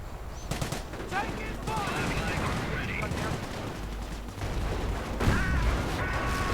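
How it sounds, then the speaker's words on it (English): Heavy 17-pounder gunfire in a video game crackles and booms continuously amid battle noise, with repeated loud shots layered over a dense rumbling background. "taking heavy 17-pounder gunfire"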